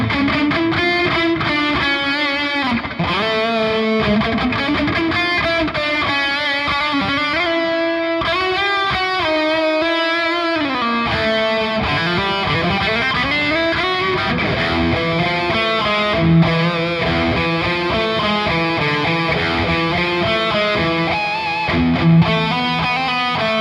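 Distorted electric guitar played through an ENGL e530 preamp with delay and reverb, sustained chords and melodic lines ringing continuously with echo trails, alone without talk.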